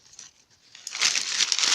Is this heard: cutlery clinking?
no